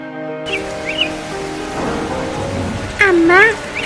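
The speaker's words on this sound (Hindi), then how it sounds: "अरे मैं तो सोच रही हूँ बारिश रुके तो जाऊंगी" Steady rain pours down in a continuous wash of noise, with a bird's chirps and a brief sharper call breaking through near the end.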